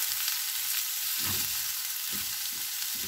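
Cabbage fries in a pan with a steady high sizzle throughout, broken by a few soft stirring scrapes and bumps, close and fairly quiet, with no talk.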